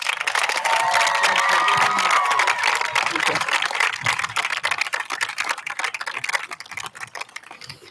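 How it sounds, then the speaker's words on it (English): An audience at the Middletown, Rhode Island high school graduation ceremony applauds the retiring staff, a dense, sustained wash of clapping with scattered cheers and a whistle, tapering off toward the end. "Nice round of applause for all of our retirees."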